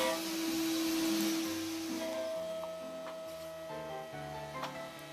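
A CNC router facing the top of a piece of stock while shaping a cabriole leg, running as a steady, loud whir with shifting tonal steps in pitch as the cutter moves, and faint ticks throughout.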